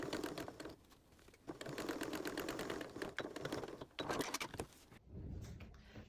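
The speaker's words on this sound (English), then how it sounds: "you're going to sew diagonally from this point where this raw edge and this raw edge intersect right down to where you stop stitching" A sewing machine stitches fabric at a diagonal angle, with a close, quiet rapid needle chatter that runs in short stretches with brief stops, ending in a pause and a soft handling sound.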